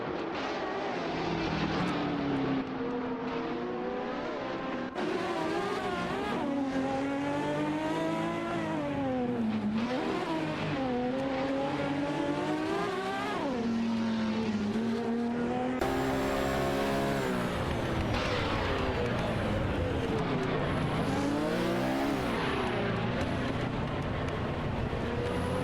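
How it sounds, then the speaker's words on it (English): Porsche 917 race cars circle a track in a racing game, their engines sweeping up and down through gear changes as several cars rise and fall in pitch, loud and continuous with no talking. "Both drivers are navigating their Porsche 917 models with skill around the track."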